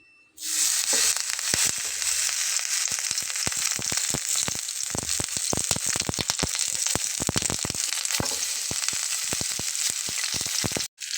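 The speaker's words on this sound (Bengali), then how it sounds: "দেখুন আমি দিয়ে নিয়েছি ছিটছিট ছিটছিট করছে" Eggplant pieces coated in mustard-poppy paste sizzle loudly in a hot frying pan, a dense crackling spatter starting abruptly and running steadily, close and alone, before cutting off near the end.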